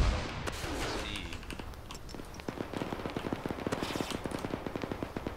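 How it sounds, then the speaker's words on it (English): Dense gunfire in the Arma 3 military shooter during a King of the Hill RHS multiplayer match: rapid automatic bursts and single shots crack repeatedly throughout, fairly loud, with no talking. "I'm taking shots and getting pinned down."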